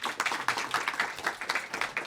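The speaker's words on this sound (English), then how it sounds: "Give her a round of applause." A small audience claps for the Mayor of Darebin at an intercultural oration event, scattered individual claps at a brisk, uneven rhythm, fairly quiet and close, with no one talking.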